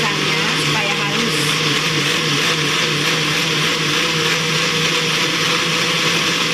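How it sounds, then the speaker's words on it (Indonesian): A blender pureeing bananas whirs loudly and steadily, a dense continuous mechanical whine running the whole time without letting up. "Nah ini aku blender ya guys pisangnya supaya halus"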